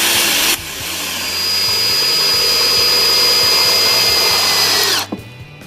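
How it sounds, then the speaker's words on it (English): A power drill drives a Type 17 drill point screw into a decking board, whirring loudly and steadily for several seconds under strain before cutting off abruptly. "Here we're taking a Type 17 drill point screw and screwing it into a piece of decking board"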